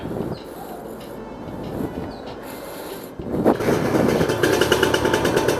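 A red and white motorcycle idles with a steady buzzing engine, then the throttle opens and the engine rises into a loud, rough, sustained rev close by, with no talking.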